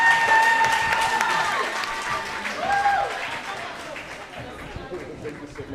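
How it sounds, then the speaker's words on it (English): Brief round of applause from a youth event audience, dense clapping fading over a few seconds while voices and tonal background sounds carry on. "Please give them a big round of applause."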